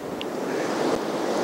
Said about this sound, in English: the wind's blowing me over